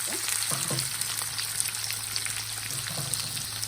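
Crushed garlic, cumin and chopped onions fry in hot oil in a pan, a steady crackling sizzle with scattered pops and faint stirring scrapes, close and moderately quiet.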